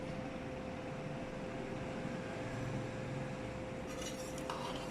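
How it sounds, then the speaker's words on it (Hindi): A serving spoon scrapes and clinks against a pot while dishing out chatpata pulao, faint metallic sounds over a steady fan-like hum, with a brighter clatter near the end. "अब हम इससे अभी करेंगे डिश आउट"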